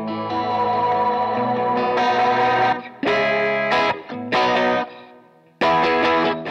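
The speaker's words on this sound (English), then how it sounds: "Now I'm gonna make the switch without spillover trails enabled." Distorted electric guitar with echo effects plays chords through an ML10X preset switcher, then cuts off abruptly at each preset switch, without spillover trails, into short bursts with silent gaps between them.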